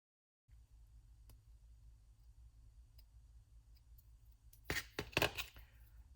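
Hobby cutters snip part B21 from the plastic sprue of a Tamiya 1:12 Ducati Superleggera V4 kit: faint ticks first, then two or three close, crisp snaps near the end in a quiet room.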